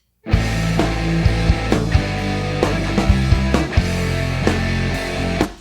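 Loud, dense band music with layered distorted guitars and pounding drum hits, sustained throughout without any voices.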